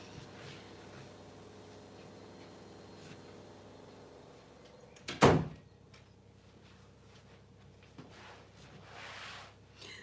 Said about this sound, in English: I'm going to go and close the door.